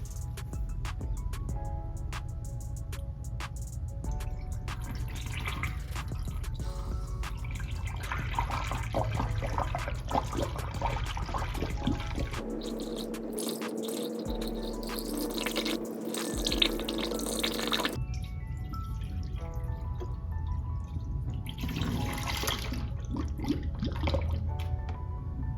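Coolant is poured through a cheap plastic funnel into the radiator of a Nissan Xterra, Frontier or Pathfinder, making a soft continuous trickle and gurgle that shifts in pitch as the level rises, close and faint.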